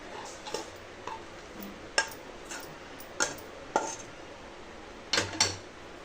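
A spoon scrapes and taps against a steel vessel while fried seasoning is mixed into cooled rice for raw mango pulihora. The clinks are soft and irregular, with a few sharper knocks standing out against a quiet kitchen.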